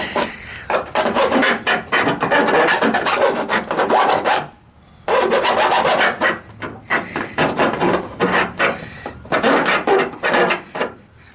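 Rapid rasping strokes of a file scraping a metal burr on a 1974 VW Super Beetle during rust repair, in repeated bursts with a brief pause midway, close and loud with no talking.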